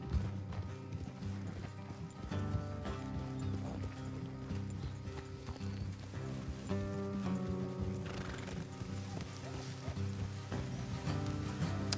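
Horses galloping and neighing in Red Dead Redemption 2, with steady hoofbeats and whinnies layered over a dense bed of game music and ambience, continuous and fairly loud throughout.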